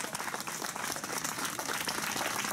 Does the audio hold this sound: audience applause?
yes